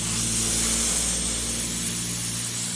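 Steady, loud rushing hiss of gas flowing into a propane tank, with a low hum underneath, constant throughout.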